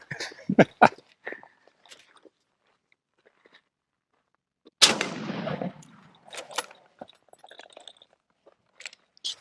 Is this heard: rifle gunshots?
yes